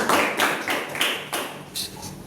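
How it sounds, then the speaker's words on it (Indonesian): Short burst of classroom applause during a mathematics microteaching lesson on sets, a few students clapping in uneven bursts that rise and fade, fairly close, with no talk over it. "aplaus dulu dong"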